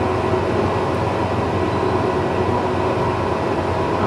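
Steady low rumble of a Tobu Kinugawa Line local train heard from inside a carriage, a constant rolling drone with no voices.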